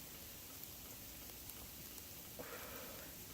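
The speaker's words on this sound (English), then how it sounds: "Sitting in not quite snow, not quite rain, not quite hail. Little ice balls, not heavy enough to hurt" Small ice pellets of sleet falling outdoors make a steady, dense patter and hiss, faint and continuous, with no voices.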